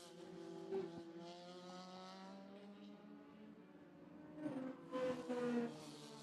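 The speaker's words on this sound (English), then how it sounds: "Formula Continental cars already catching the back of the prototype field here." Formula Continental open-wheel race cars at an SCCA club race, their engines droning steadily as they run on track, with louder, rising passes and a faint tire squeal near the end.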